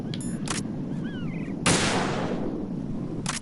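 A sniper rifle shot in Metal Gear Solid 2, a single sharp blast with a decaying rumble midway, preceded and followed by brief game effects and faint background ambience.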